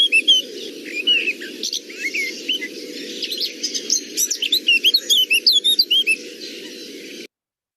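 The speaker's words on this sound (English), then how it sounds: "this is clearly a blackcap" A blackcap delivers rapid, fluty warbling phrases that build into a dense run of bright notes toward the end, over a steady low background hiss, with no voices, before cutting off abruptly.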